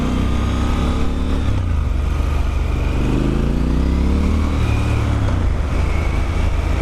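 Triumph Scrambler 1200 XE motorcycle on the move, its engine droning loudly and steadily with rising and falling revs as gears change, heard close and continuous with no talking.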